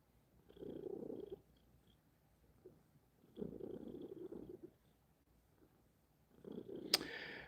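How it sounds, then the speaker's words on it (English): A domestic cat purring close by in a quiet room, three separate bouts of low, rumbling purr with short pauses between, the last ending in a brief faint squeak. "just to purr for me"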